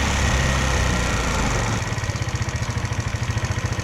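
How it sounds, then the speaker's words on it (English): A GY6 50cc scooter engine idles steadily and close by, the uneven revving settling into a fast, regular putter. "This is the idling."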